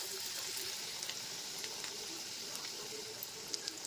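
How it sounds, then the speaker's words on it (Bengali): Continuous crackling sizzle of battered amudi fish frying in hot oil, two or three pieces at a time, with scattered sharp pops throughout. "আর এই তেলে দিয়ে দেবো।"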